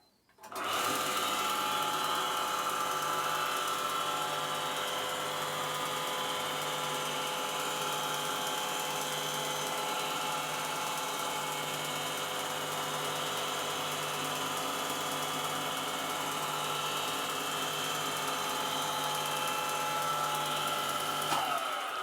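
A vintage Clarkson Type 1 cutter grinder runs steadily with a dense, even mechanical whine and hum, close and loud throughout after a quick start, no voices.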